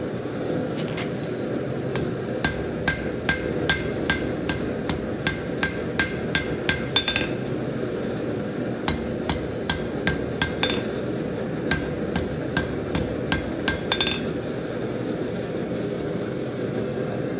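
A hammer squares up a hot steel taper at a blacksmith's anvil, striking in quick rhythmic runs of ringing blows with short pauses between them, all over a steady loud hum of background machinery.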